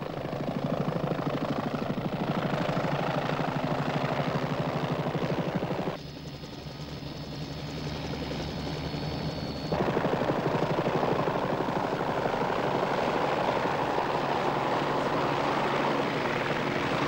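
A helicopter's rotor and engine drone steadily throughout, with a brief shift in tone midway as it sets down, no voices.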